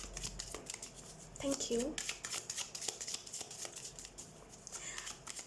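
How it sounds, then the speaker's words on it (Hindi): Oracle cards being shuffled by hand during a tarot-style reading: a run of soft, papery riffling and slapping bursts, close and fairly quiet, with a brief spoken voice partway through. "so let's shuffle the cards"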